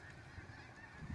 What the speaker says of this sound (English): She's not digging the sound of those birds.